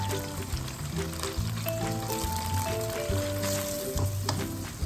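Crushed chili, coriander, cumin, turmeric and salt fry in a pan for boneless chicken and mixed vegetable pulao, giving a steady close sizzle under background music.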